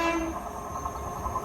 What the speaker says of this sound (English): Anyway, get the next train.